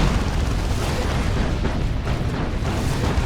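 Heavy, continuous booming from a Baneblade tank and a missile launcher firing in Dawn of War 2, a loud, dense wall of explosions and rumble with no let-up.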